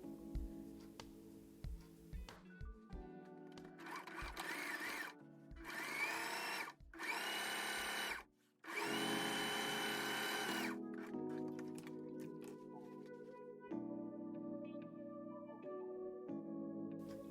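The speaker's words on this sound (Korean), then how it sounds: "재봉틀에 있는 지그재그 패턴으로 시접 정리를 해볼게요" Bursts of a sewing machine's rapid mechanical whirring as it zigzag stitches a seam allowance, several runs a few seconds long separated by brief pauses, close and fairly loud with no talking.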